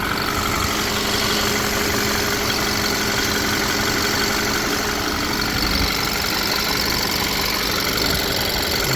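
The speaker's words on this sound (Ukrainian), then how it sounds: "є незначний тріск від ТНВД" The diesel engine of a 2015 Volkswagen Tiguan idles steadily and close by, a constant mechanical drone with a fine, even ticking from the injection pump running through it, no talking.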